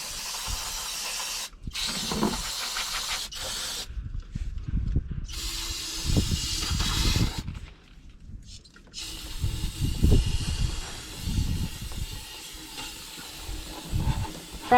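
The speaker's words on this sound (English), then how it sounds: "let's take some brake clean, get all this shit sprayed out" Aerosol brake cleaner sprayed onto hydraulic filter parts from a Case 1070 tractor, heard as several loud, close hissing bursts of varying length separated by short pauses, with some clanking of parts underneath.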